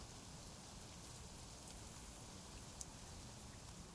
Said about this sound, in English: I'm getting real sick and tired of this rain